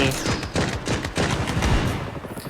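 Rapid bursts of AK rifle fire in the mobile shooter Blood Strike, loud close shots in quick rattling succession, with no voice heard.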